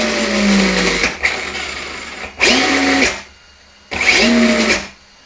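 The electric motor of a big, fast Lancer Evo VI RC car spins its wheels up in the air with three loud whining revs, each rising in pitch and then cutting off sharply with short pauses between.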